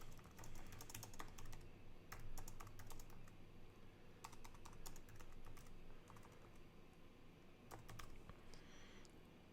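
Fingers type steadily on a computer keyboard while entering a product description, quiet close clicks arriving in quick bursts with short pauses, alone with no talking.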